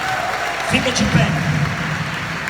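A church congregation applauds briefly during a service in Arapiraca, moderate and spread through the hall, as a preacher's voice speaks over it.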